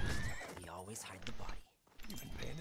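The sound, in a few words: horse neighing in video game Desperados III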